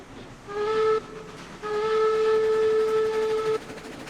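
A Climax steam locomotive in the Railroads Online logging game sounds two steady whistle blasts, a short one then a longer one, over a soft background hiss as it gets under way.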